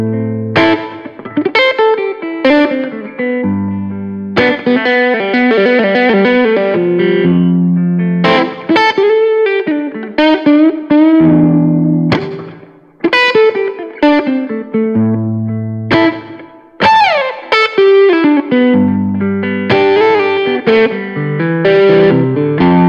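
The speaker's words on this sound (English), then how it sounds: "adds basically a hot rod setting to the humbucker pickups and just boosts that output" Overdriven electric guitar through humbucker pickups with a hot-rod output boost plays a hot, boosted lead line of sustained bends and fast runs, loud and up front with no talking.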